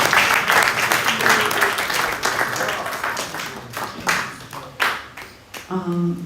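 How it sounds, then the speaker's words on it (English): An evening program audience gives a round of applause, dense clapping that starts strong and gradually thins into scattered claps, with a voice speaking at the end. "So let's give him a round of applause."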